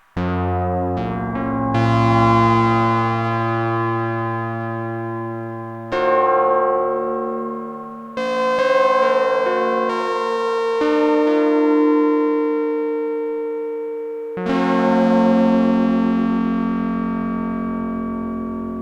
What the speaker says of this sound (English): Really nice gritty sound coming from that BBD and spring reverb.